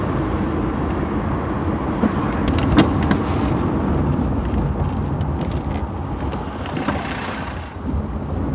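A Triumph Dolomite's engine pulls steadily from low revs on the road, a continuous low rumble mixed with wind and road noise heard from inside the car, with no talk.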